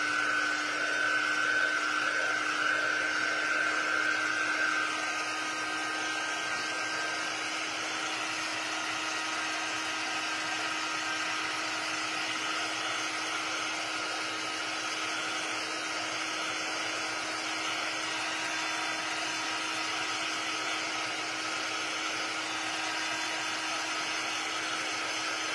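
A handheld dryer blowing on freshly painted craft pieces, a loud, steady motor whine and rushing air droning evenly without break.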